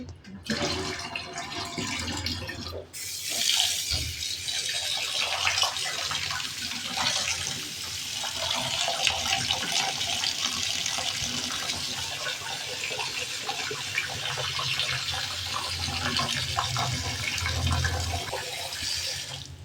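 Rice is washed under a running kitchen tap, water pouring and splashing steadily for about twenty seconds after a brief quiet start, close by with faint background noise.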